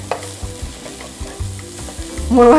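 Sliced onions browning in a pan, close and loud, with a repeated pattern of spatula scrapes and knocks over a steady sizzle that swells near the end.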